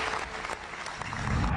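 Crowd applause at the G20 leaders' summit in New Delhi greeting the Delhi declaration, a dense, steady wash of many hands clapping throughout, loud and close, with no speech over it.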